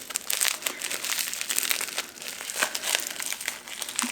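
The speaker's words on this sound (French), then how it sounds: "Chaque fois, c'est super bien emballé avec papier bulle." A candle packed in bubble wrap is unwrapped up close, with continuous crinkling and rustling of plastic in uneven bursts and no speech.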